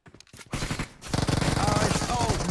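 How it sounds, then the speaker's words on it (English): Rapid bursts of gunfire from the Clash of Nations video game, loud and near, swelling into sustained dense firing after a short lull, with some game voices mixed in. "Hey, he started shooting."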